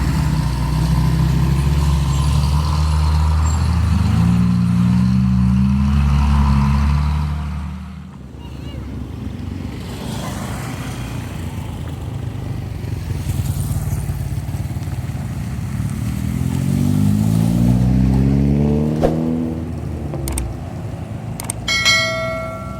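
Heavy trucks hauling fill soil rumble past on a toll road construction site at Pasia Laweh, Lubuk Alung, two loud passes with a quieter stretch between, and a voice speaks over the engine noise.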